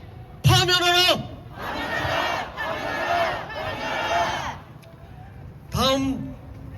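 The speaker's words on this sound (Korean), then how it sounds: "헌재의 파면을 요구하는 고함을 외치겠습니다" Protesters at an Ulsan rally demanding President Yoon Suk Yeol's impeachment shout a chant in unison, with loud, drawn-out bursts at the start and end framing a rhythmic call of several syllables between.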